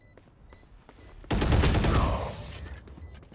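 Heavy LMG machine gun fire in the video game Valorant, a loud sustained burst of rapid shots that starts abruptly and runs for over a second before tailing off.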